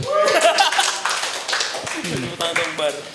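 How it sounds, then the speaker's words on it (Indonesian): Hand clapping on a Barcelona-focused football talk show, quick irregular claps mixed with tapping and a little chuckling, heard close and loud over someone speaking throughout. "Beri tepuk tangan dong, Bar."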